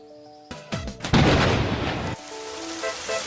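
A heavy summer thunderstorm downpour sets in as a loud broadband rush of rain after a sudden burst at the start, over quiet music, then eases back under tonal music.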